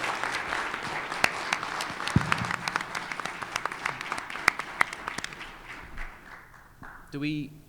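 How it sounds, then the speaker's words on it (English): Audience applause for people leaving the stage at a conference, a patter of scattered claps under a loud voice that thins out and fades near the end. "Let's give them a big round of applause."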